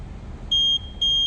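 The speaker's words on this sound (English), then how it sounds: "It starts from 2 beeps." A Tesla Model X electric frunk controller gives two high-pitched electronic beeps, evenly spaced about half a second apart, over a low background rumble.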